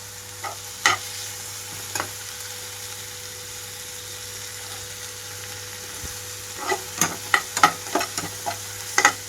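Green chili paste and mint sprigs fry on a high flame, a soft continuous sizzle under a low hum, with sparse spatula clicks early and a quick run of scraping stirs toward the end.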